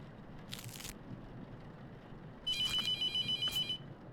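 A telephone rings in the horror video game The Mortuary Assistant: a short electronic burst, then a longer pulsing ring that repeats rapidly for over a second, loud and close against a quiet background.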